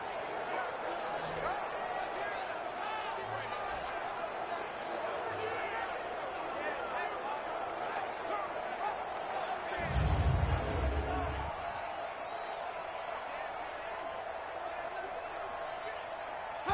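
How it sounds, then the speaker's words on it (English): Football stadium crowd rumbling as fans get into it ahead of a big third down, a steady roar of cheering and babble that swells briefly louder in the middle, with commentary voices running over it. "the crowd getting into it as we come up on a big 3rd down"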